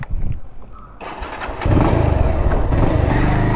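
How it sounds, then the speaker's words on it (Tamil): A petrol-smelling motorcycle used by a food-delivery rider is cranked on its self-starter, a close, repetitive mechanical churning that grows louder and steadier midway without the engine clearly catching. "என்னடா இது செல்ஃப் எடுக்க மாட்டேங்குது"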